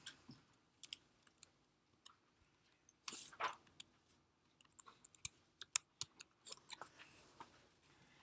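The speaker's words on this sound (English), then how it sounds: "we wait for the user to type it in on the keyboard" Someone types on a computer keyboard, producing faint, irregular key taps and clicks, sparse at first and then in quicker bursts, heard close in a quiet room.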